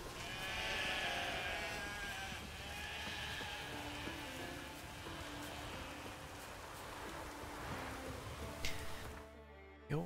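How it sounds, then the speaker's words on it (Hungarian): Sheep bleat in The Witcher 3 on the Skellige isles, with several soft, quiet calls over a rain-like hiss of ambient game sound. "Birkák."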